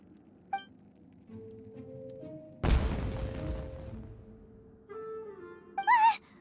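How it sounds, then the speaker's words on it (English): Fireworks go off in the video game Genshin Impact: a sudden sharp burst with a crackling, fading tail in the middle, set among quiet game music and chimes. "Was that an explosion? It sounded like fireworks."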